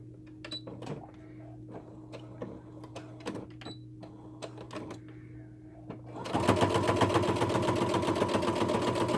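A sewing machine stitches a minky baby blanket, starting with a few scattered clicks and adjustments, then breaking into a steady, fast, loud mechanical whir for the final few seconds, close by.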